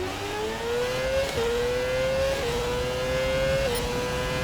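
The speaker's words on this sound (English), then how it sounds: "you can actually hear the engine RPM change, and you can shift just based on how it sounds" A Formula 1 car engine in the video game F1 2017 at Baku revs upward in repeated climbs, dropping briefly at each gear shift, a loud steady motor whine with no voices.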